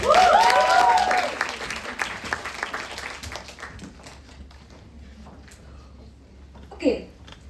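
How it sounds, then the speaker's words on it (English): Loud applause from an audience welcoming a speaker to the stage, gradually fading to scattered claps, with a short burst of sound near the end. "Let's welcome her to stage with a huge round of applause"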